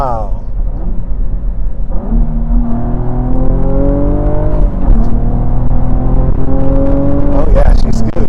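Cadillac ATS-V in track mode accelerating hard, engine note climbing steadily through the revs in a long pull with a brief shift, heard from inside the cabin.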